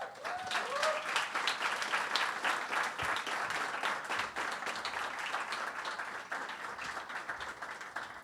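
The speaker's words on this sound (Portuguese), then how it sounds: "Por favor, muitas palmas para a Carmen." Audience applause welcoming a choreographer and filmmaker onto the stage at a dance talk event, moderately quiet, steady clapping with crisp individual claps, lasting throughout with some faint voices.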